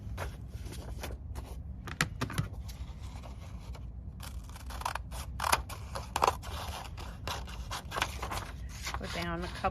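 Paper being trimmed with scissors for a junk journal, a run of short crisp snips and soft rustles at close range, fairly quiet, with a brief bit of background noise but no speech.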